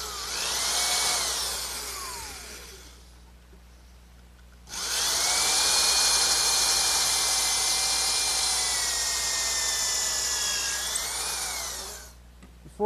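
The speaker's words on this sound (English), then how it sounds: "I'll drill a pilot hole with a counterbore for some screws." A power drill bores a pilot hole with a counterbore into wood in a woodworking shop, running in two loud, steady, high-pitched whirring bursts separated by a short pause.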